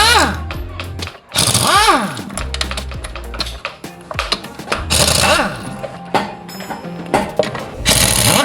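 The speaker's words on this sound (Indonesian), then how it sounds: "Ya kita gunakan impact ya biar lebih cepat teman-teman." Bursts of an impact wrench rattling loose the CVT cover bolts on a Yamaha NMAX scooter, several loud buzzing runs broken by short pauses, close up, with clanks of tools and parts between them.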